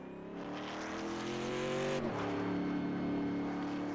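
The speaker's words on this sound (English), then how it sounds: "Spin a little bit of tires." Race truck in a racing video game pulling off pit road, engine revving up with tires spinning, the tone climbing then dropping sharply as it shifts and accelerates away, loud and close.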